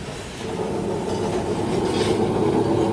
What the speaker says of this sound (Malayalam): നമുക്ക് പോകാനുള്ള ട്രാം ഇതാ കടന്നു വരികയാണ്